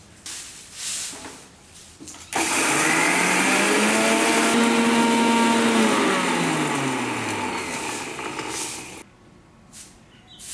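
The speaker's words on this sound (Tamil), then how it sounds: "அதே மிக்சிலே போட்டு அரைச்சிக்கலாம்." A mixer grinder grinding spice powder starts abruptly and whirs loudly for several seconds, its motor pitch slowly dropping before it stops, quieter room noise before and after.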